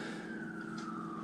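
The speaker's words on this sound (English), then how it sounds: "I don't know if you can hear that, but there's actually sirens in the background." Emergency sirens wail faintly in the distance along a quiet country road, a single drawn-out tone slowly sliding downward in pitch, with no other sounds.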